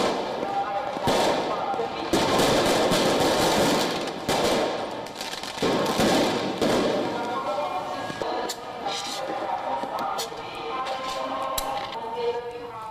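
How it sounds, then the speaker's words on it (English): Rapid bursts of fireworks crackle and bang in irregular volleys outdoors at a night street protest in Tbilisi, Georgia, with crowd noise and shouting mixed through the loud, chaotic racket. "protesters launched fireworks at the police lines near the Georgian parliament building in Tbilisi"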